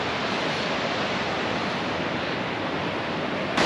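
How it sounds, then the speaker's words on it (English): A steady, loud rush of a waterfall in the Stubai Alps, Austria, roars without pause, a dense white-noise wash close by, with no voices. "somewhere around here I have to cross over this waterfall and I can't see a good spot"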